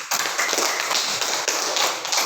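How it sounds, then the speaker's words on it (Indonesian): Classroom applause for a student's answer: a brief, dense patter of many hands clapping nearby, steady for a couple of seconds with no talking. "Tepuk tangan untuk jawab."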